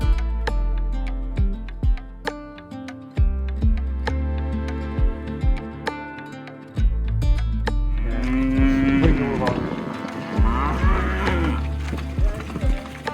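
Shorthorn and Friesian dairy cattle on a farm, lowing in deep drawn-out moos, one cow close and loud while others call across the yard, set against a steady, rhythmic background of music.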